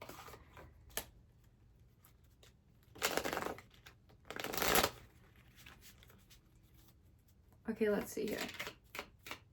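A tarot deck is shuffled in two close, crisp bursts of riffling card noise separated by quiet, followed by someone speaking briefly near the end.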